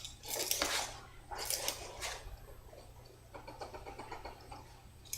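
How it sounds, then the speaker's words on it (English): Baking soda being sifted through a metal kitchen sifter: soft, scratchy, rhythmic rasping in short bursts, close and fairly quiet, over a low steady hum. "And I'm sifting it again just to make sure that there's no weird things in there"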